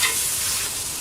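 Stuffed okra being stirred and fried in a pan gives a brief, steady, close sizzle with a soft scraping stir, fairly loud and alone, with no voices.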